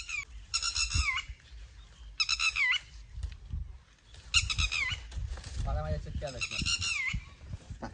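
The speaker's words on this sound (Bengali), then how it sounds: "ওই পাখিগুলা অনেকক্ষণ ধরে চিল্লাচিল্লি করতেছে" Birds screech in a jungle, sharp whistling calls with a wavering tone in several repeated bursts, fairly near, separated by short lulls against quiet background rustle.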